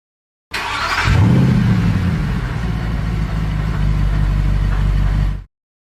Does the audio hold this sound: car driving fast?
yes